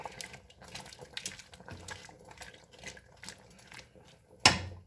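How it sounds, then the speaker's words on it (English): Rutabagas stirred in a pot of boiling water with turnip greens, soft watery sloshes and splashes in loose repeated bursts, close and fairly quiet, ending in one sharper clatter. "Get them mixed around in that water."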